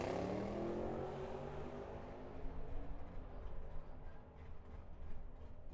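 A drag racing car spools up its engine at Firebird Motorsports Park, a rough, sustained mechanical drone heard from some distance, fairly faint and with no talk over it.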